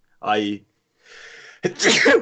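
One person gives a loud sneeze with a sharp intake of breath, followed by a brief spoken remark.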